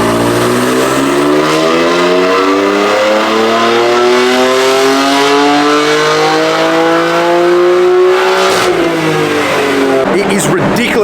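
A BMW M4 engine roars on a hub dyno, a loud, continuous rising rev with strong harmonic whine building toward a peak, then a brief lift and burble at the end.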